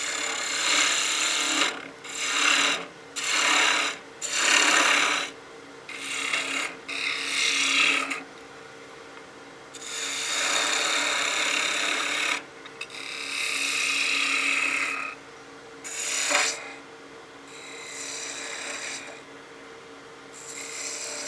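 A gouge cuts a wooden wine glass on a spinning lathe, giving repeated rasping, shearing passes in short bursts separated by brief pauses, close and steady with a faint motor hum beneath.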